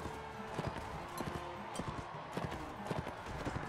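Horse hooves clip-clop rapidly in the video game Mount & Blade Warband, a dense galloping patter of hoofbeats over a busy battle-noise background.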